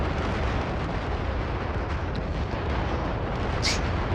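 A boss in the Super Mario RPG video game slowly exploding, a steady dense rumbling roar that fills the whole stretch with continuous low blasts and a faint brighter crackle near the end.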